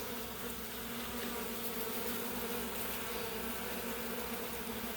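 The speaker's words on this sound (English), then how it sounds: "These carnioles are really sweet little bees." Carniolan honey bees fill a house tent with a continuous, even buzzing hum, a soft but dense drone of many wings close by, with no voices.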